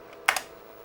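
Two quick key presses on the keyboard of a 1986 Opus PCII V20-based PC XT, a close, crisp double clack over faint background hum.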